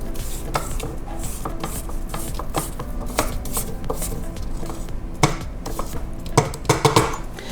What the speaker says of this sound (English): So we're going to scrape the bottom of the bowl and the sides of the bowl.